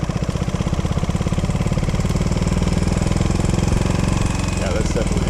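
A struggling, failing motorcycle engine chugs steadily with a rough, rapid knocking pulse while riding through Tokyo streets, loud and close throughout.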